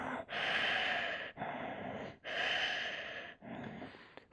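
During a yoga balance pose, someone breathes in deep, long, audible cycles up close, four drawn-out breaths separated by short pauses, with no speech.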